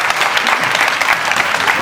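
An audience claps loudly and steadily at a children's karate and acrobatics club show. The dense applause fills the whole stretch, with a faint murmur of voices underneath.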